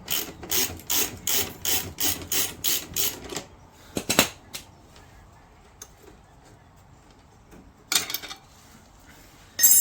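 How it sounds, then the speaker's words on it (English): A 12mm ratchet working a header bolt on a 2019 Yamaha MT-03 during an exhaust install: a quick run of about ten sharp, even clicks, then a few scattered clicks and metallic clinks, close and fairly quiet. "So first step is to take this bolt off. It's with your 12mm ratchet and 12mm crescent."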